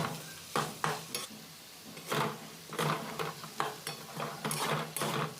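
A spatula scrapes and stirs potatoes frying in a pan, giving repeated close scraping strokes about twice a second over a soft, continuous sizzle, with no talking.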